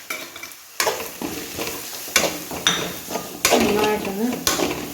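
Spoon stirring coriander powder and meat masala into sautéed onions sizzling in a pan, with repeated scraping clinks against the metal over a steady frying hiss, close up.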